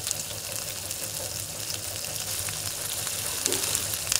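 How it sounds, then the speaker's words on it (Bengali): A spice mixture for baby onion curry sizzles and hisses steadily in a pan as it is stir-fried with a little water, a close, continuous frying sound with no talking. "সব কিছু দিয়ে একসাথে ভালোভাবে আমাকে এটাকে নাড়াচাড়া করে ভেজে নিতে হবে।"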